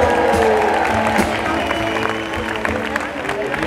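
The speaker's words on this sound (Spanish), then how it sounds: "Fuerte aplauso para el único vegano de Logroño" Comedy show audience in Logroño applauding a vegan in the crowd, a steady dense clapping layered with crowd noise and voices talking over it throughout.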